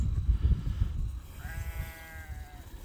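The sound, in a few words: goats bleating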